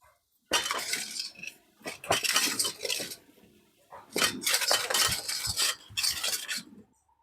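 Sliced pointed gourd (potol) being tossed and rubbed with salt in a bowl, giving bursts of clinking and scraping against the dish in several close, loud rounds separated by short pauses.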